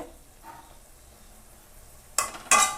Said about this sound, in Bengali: এই দেখো শাকটা পড়ছে